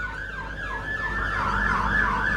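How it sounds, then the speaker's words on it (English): A wailing siren sweeps up and down repeatedly, loud and steady, growing slightly stronger as it goes on, with no voices. "Do you hear the sirens?"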